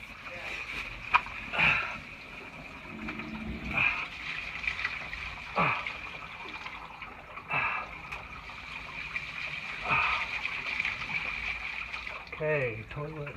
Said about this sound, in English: toilet's flushed